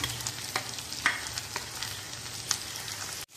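Fried chicken pieces are tossed and stirred in a sizzling pan, a steady fry hiss with scraping stir clicks throughout, fairly close, with no talking.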